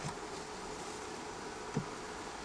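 A swarm of bees hums in a steady, dense buzz close by, continuous and fairly even, with one brief soft knock near the end.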